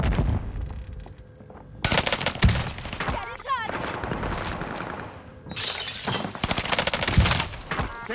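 Gunfire in Warzone crackles in repeated bursts of shots, loud and close with rattling automatic fire and sharp impacts, broken by a quieter stretch in the middle.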